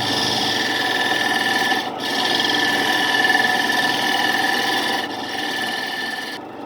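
Hand carving out the inside of a scrap wood mosaic-pattern bowl, a steady continuous rasping scrape with two brief pauses, close and fairly loud, no talking.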